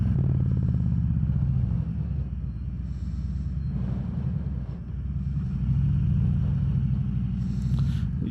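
A 2021 Harley-Davidson Ultra Limited motorcycle rides along with a steady low engine rumble that dips briefly in the middle before pulling strongly again, under wind buffeting, close and loud throughout.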